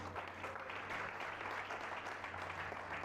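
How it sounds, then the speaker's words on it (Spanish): Faint, steady clapping from a crowd at a pastors' seminar in Caracas, a continuous wash of hand claps heard from a distance without speech. "Dale un fuerte aplauso."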